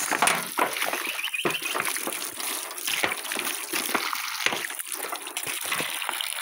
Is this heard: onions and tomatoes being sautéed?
no